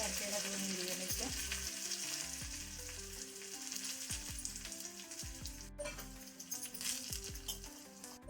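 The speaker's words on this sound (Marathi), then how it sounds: "मोहरी कडकडून झालेली आहे, मी लसूण टाकते, कढीपत्ता" Mustard seeds, garlic, curry leaves and green chillies sizzle in hot oil for a raw mango chutney, with a continuous crackling fry, scattered popping and faint metallic clinks of stirring, no talk.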